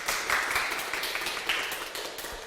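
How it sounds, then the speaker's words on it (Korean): A live studio audience claps steadily as a guest is welcomed to a talk show, a dense, even patter of many hands that swells slightly in spots and carries on without voices over it. "박수 보내주시죠"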